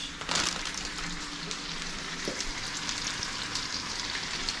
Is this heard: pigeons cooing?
no